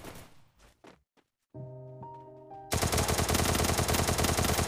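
Shotgun fire in Free Fire during a 2-versus-2 match: a few soft footsteps and thumps, a brief tonal game cue, then a sudden loud continuous barrage of blasts to the end, no talk.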